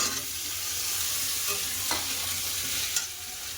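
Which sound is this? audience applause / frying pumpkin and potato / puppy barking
frying pumpkin and potato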